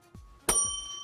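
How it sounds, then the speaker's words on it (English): A bell is struck once, giving a bright, loud ding that rings on with sustained tones, preceded by a soft low thud. "hit the bell."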